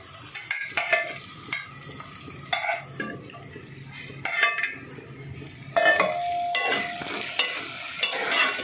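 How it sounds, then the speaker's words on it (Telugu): Prawns go into hot oil with fried onions and green chilies, sizzling under repeated close stirring and scraping, with metal spoon clinks against the pan. "ఇప్పుడైతే రొయ్యలు అయితే వేసుకుంటున్నానండి."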